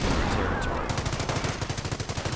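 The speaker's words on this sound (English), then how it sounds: "the Grenadiers rush straight at the heavy machine guns." Heavy machine guns fire in a video game battle, a rapid rattling burst that follows a louder opening blast, dense and fairly close.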